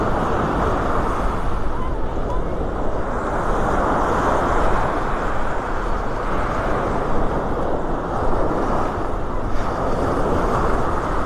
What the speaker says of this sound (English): the wind's coming in right out of the west, right off the Gulf, kicking up the waves here